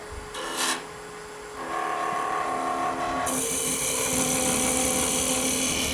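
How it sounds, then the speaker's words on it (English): A wood lathe spinning up as a tenon is cut on a production turning, with a rasping cut that begins partway through and then holds as a steady, close, loud scraping over the constant motor hum. "Just cutting a tenon right there."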